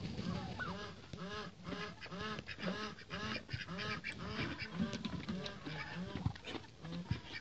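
Muscovy ducks in a farmyard flock give repeated hoarse, honking calls in a busy overlapping chorus, steady and fairly close throughout.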